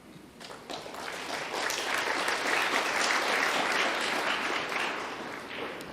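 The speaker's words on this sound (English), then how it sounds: "You hear the applause, very educated crowd here at the US Open" Audience at the 2023 US Open Pool Championship claps after a shot, applause swelling quickly from scattered claps into steady sustained clapping, then easing slightly at the end.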